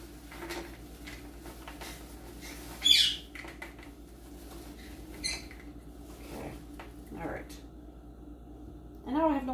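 Pet birds in a home kitchen give sharp, scattered chirps and brief squawks, with a few louder calls standing out over a steady room hum, and a person talks throughout.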